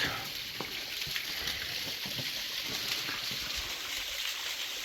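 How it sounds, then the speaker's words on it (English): A waterfall at the entrance of a graphite mine in a wilderness area gives a steady, broad hiss of falling water, continuous and fairly close, with no speech. "You got this waterfall right on the entrance."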